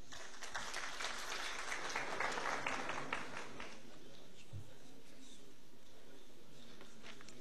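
Audience applause at a provincial diplomacy conference panel, a dense burst of clapping from a crowd in a hall that fades out after about three seconds, leaving quiet room tone.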